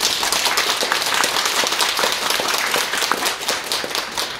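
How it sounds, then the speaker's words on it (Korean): Audience applause at a policy forum held in the Seoul Press Center, a loud, continuous burst of many hands clapping with individual sharp claps standing out, sustained evenly throughout. "다시 한번 큰 박수 부탁드리겠습니다."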